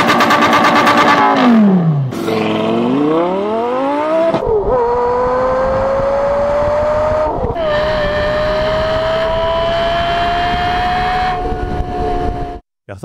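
A high-pitched V10 car engine revs loudly, dropping and climbing through gear changes, then holds a long rising scream at full throttle before cutting off.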